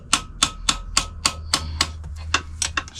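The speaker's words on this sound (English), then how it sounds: "let's try to gently punch. Don't want to hammer that thing too much" Repeated hammer blows punching out the linkage pin bolt on a 2017 Yamaha Raptor 700 rear shock, about ten sharp metallic strikes at a steady rhythm, close and loud, with no talk.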